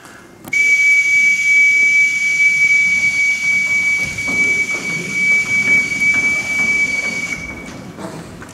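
A single sharp whistle blast is blown as a signal, one loud, steady, piercing tone held for about seven seconds in a room, then cut off, with no speech.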